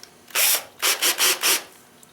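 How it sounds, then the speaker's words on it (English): A power drill bores a guide hole in an M&P 15-22 adapter in several short, loud whirring bursts, one long pull followed by three quick ones, with no talk. "Come in from the other side and drill that hole out."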